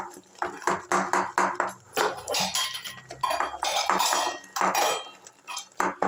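Lentil batter for rasbora sweets being beaten by hand in a bowl, a quick irregular series of clinks and scrapes of utensil against the bowl, close and fairly loud.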